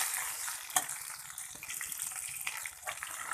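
Green chillies hit hot oil for a chickpea dal and potato tadka, producing a soft, watery sizzle with a few sharp pops, close but fairly quiet, with no voices.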